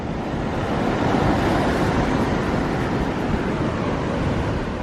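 Ocean waves wash onto a sandy beach at an open-air painting spot. The surf makes a continuous broadband rush that stays fairly loud and even throughout, with no voices.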